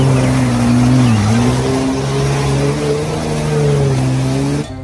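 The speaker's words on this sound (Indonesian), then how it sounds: "Di sini ada mobil off-road." An off-road toy car gives off a steady, buzzy engine-like hum that rises slightly and holds for several seconds, close and fairly loud, before stopping abruptly.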